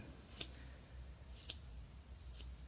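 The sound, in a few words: small sharp scissors trimming a yarn pom-pom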